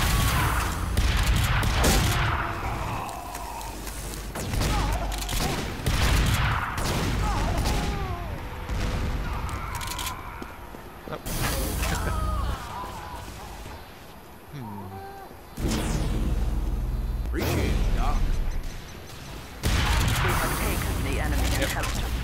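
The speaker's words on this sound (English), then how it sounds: "That sniper opened fire immediately" Sniper shots crack out in Team Fortress 2 amid scattered gunfire and booms, with someone talking over much of the fighting.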